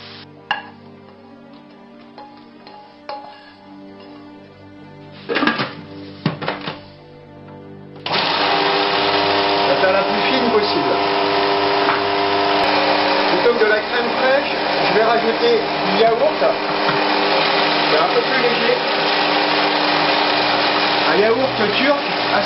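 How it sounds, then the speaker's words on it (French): A blender whirs into action on mushrooms cooked with ginger, starting abruptly after a few short bursts and running loud and continuously, its pitch wavering as the contents churn. "Ah bien, on va les mixer."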